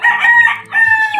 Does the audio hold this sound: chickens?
yes